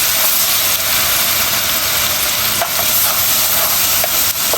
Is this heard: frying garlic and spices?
yes